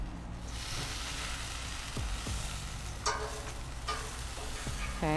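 Chicken tikka kebab on a skewer sizzles and fries steadily over high heat, with a few light clinks and scrapes as the skewer is turned partway through cooking.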